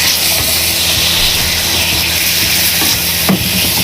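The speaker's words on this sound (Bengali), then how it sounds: "এগুলো এখন আমি ভেজে নেব" Beef with turmeric, chili powder and ground spices fries in a pan, producing a loud, dense, steady hiss and sizzle with faint scraping throughout, close up and without speech.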